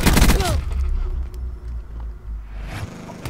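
Gunfire in Call of Duty Black Ops 4, a loud burst of shots at the start followed by rumbling in-game sound and more scattered fire, with a voice briefly present.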